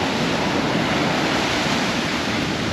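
Ocean surf breaks on a beach where someone is fishing for mulloway, producing a loud, dense wash of roaring white noise with no pauses. Nobody speaks.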